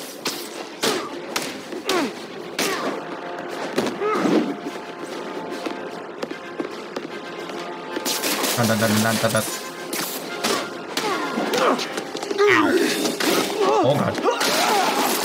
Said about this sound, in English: Straight threw me through a wall.